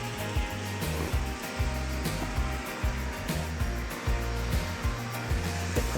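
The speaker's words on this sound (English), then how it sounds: "Percy can come off the track with his little mail car here." A Percy model train pulling a small mail car runs along its track, giving a steady motor whir broken by regular rhythmic clicks from the rail joints, close and continuous.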